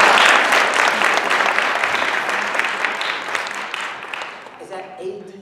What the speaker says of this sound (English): Let's give Addison a nice round of applause.